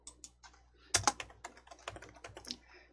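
Clicky computer keyboard typing, a run of quick close keystrokes with a sharp cluster near the middle, likely an Enter press, in a quiet room with no talk.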